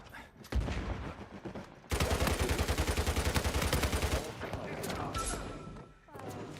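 Sustained automatic gunfire in a multiplayer video game, steady rapid rattling bursts at close range with a brief pause between them, loud over background game noise.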